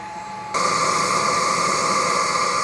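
A steady, loud motorized whir switches on abruptly and holds constant, the high-pitched electric drone of a Bissell PowerClean stick vacuum, with no voices.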